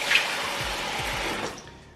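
Water poured from a container into a cooking pot for cabbage, a steady close splashing fill that tapers off near the end, with no voices.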